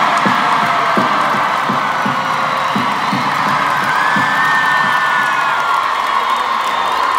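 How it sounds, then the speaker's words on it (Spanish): A large concert crowd at a show roars with cheers, whoops and shrill shouts layered over clapping, loud and sustained, with a few sharp percussive hits early on under the continuous wash of crowd noise. "Un aplauso para el mejor puto público del mundo"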